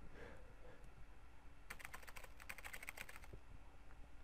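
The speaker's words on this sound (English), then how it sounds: "It goes more typing." Quick keyboard typing sound effect from the video game MegaMan Battle Network 2 clatters in a burst over a steady low background hum, with quieter ambience before and after.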